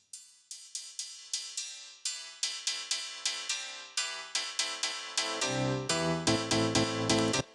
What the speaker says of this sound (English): You could introduce the piano like this.